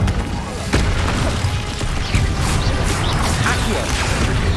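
Incendio fire spell cast in Hogwarts Legacy: a loud, dense roaring blast with whooshing, booming bursts that fill the whole stretch without a break.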